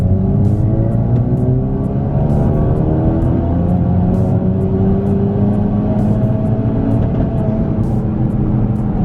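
A custom-tuned Ford Focus RS accelerates hard through first, second and third gears on a long road. The engine note climbs loudly and steadily, with rising pitch sweeps at each gear change and no gaps.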